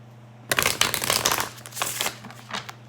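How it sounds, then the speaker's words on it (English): A deck of tarot cards is shuffled close by, a quick run of soft riffling and flapping bursts over about two seconds, then a few lighter taps. "I'm going to shuffle a little bit again on camera"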